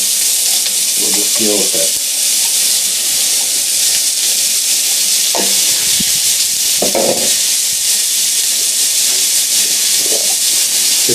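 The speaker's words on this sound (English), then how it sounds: "we're going to do our cauliflower and mushrooms on the other side, and we'll just try and get all that in 1 pan" Cauliflower and mushrooms fry together in one crowded pan over a small outdoor propane burner, giving a loud, continuous sizzle and hiss close up. Occasional scraping stirs and brief speech rise over it.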